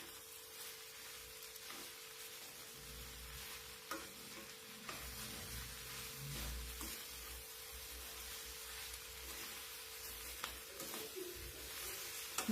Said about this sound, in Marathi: मीठ टाकून झाल्याच्या नंतर परत एकदा भाजी आपल्याला छान मिक्स करून घ्यायची